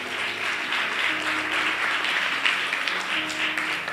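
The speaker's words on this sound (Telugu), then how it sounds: "గట్టిగా చప్పట్లు చూపిస్తున్నాం" A church congregation applauds together, dense sustained clapping that stays loud and steady throughout, with faint voices underneath.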